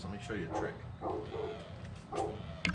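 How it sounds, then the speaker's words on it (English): A dog barks several times at a distance, short separate yaps, while a person speaks nearby. "You can hear her barking."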